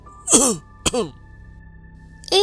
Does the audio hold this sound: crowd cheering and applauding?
no